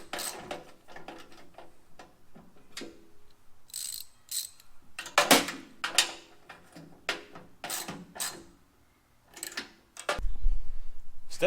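Ratchet clicks from a 13mm socket tightening the motor mounting bolts on a WEN 3403 dust collector stand, coming in short close bursts of mechanical ticking with pauses between them and a low thump near the end.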